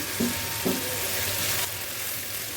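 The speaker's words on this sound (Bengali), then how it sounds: "পেঁয়াজ বাটা একটু ভালো করে ভাজি করে নিতে হবে" Onion paste fries in a pan with a loud, continuous hiss up close, broken by two brief stirring knocks near the start.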